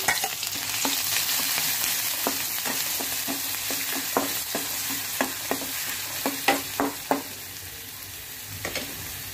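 Garlic-ginger paste and chopped coriander sauté for medu vada, a soft steady sizzle broken by a series of distinct spoon taps and scrapes against the pan, close and alone.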